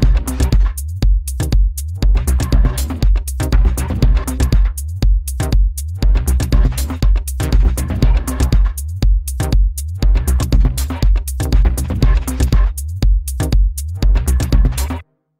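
A gated, high-end percussion loop built in Logic Pro plays with a full band and pedalboard-style effects, driving a tight, steady rhythm of punchy hits that runs loud and continuous before stopping abruptly.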